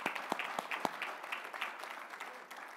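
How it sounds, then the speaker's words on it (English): Applause from a seated audience at an engineering awards dinner, a few sharp claps standing out at the start before settling into a steady, moderately distant patter that fades slightly toward the end. "Let's give them all a round of applause."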